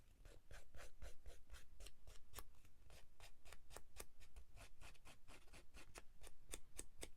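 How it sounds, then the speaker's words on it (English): Scissors cutting the edge of a salvaged craft slide, a fast run of sharp crisp snips repeating at an even rhythm, close and clear with no talking. "I'll just use my scissors instead"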